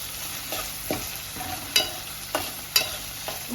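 Onions and curry leaves fry in a pan for upma, a steady close sizzle broken by several sharp stirring scrapes and clinks, with no talking.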